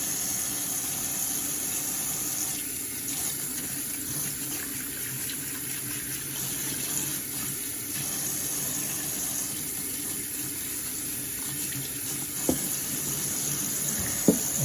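Water runs steadily from a sink tap over porcupine meat being rinsed, a constant close splash with a couple of small knocks near the end.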